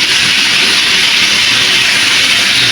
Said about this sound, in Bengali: এটাকে আমি ভালো করে ভেজে নেব।